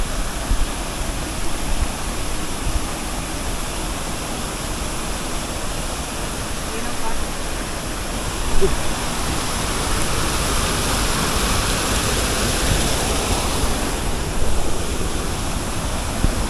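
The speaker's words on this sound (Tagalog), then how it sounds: "At andito na tayo sa talon." A waterfall pours in steady, loud broadband roar, constant and close throughout, with no other sound standing out.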